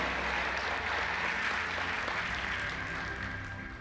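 A church congregation applauds in a sustained, dense wash of clapping at a worship service, steady and fairly loud throughout before easing slightly at the end.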